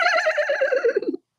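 A person imitates a horse neigh with a loud, close, quavering whinny that wavers and falls in pitch before stopping abruptly after about a second.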